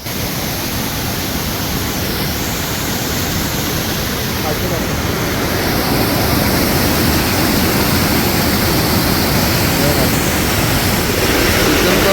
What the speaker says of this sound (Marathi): एवढा जोरात पाऊस पडतोय